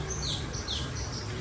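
Small birds chirp in the trees at Disney's Animal Kingdom, a string of high, thin tweets repeating over a steady outdoor murmur of park ambience.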